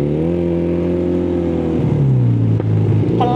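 A custom two-cylinder Honda Spacy scooter engine of about 220cc revving, a loud close throaty drone that drops in pitch after a blip and then climbs again, with no speech over it.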